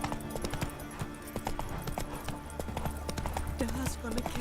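Horse hooves clip-clopping in The Witcher 3: Wild Hunt video game, a rapid rhythmic run of hoof beats at moderate level, heard under game character dialogue and background effects.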